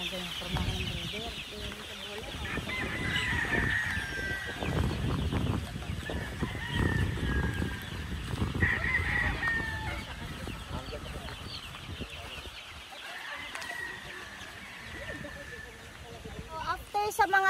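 Chickens and roosters cluck on a farm raising pullets and broodstags, with a crow now and then. The birds are steady and moderately close, and people talk over them for most of the stretch.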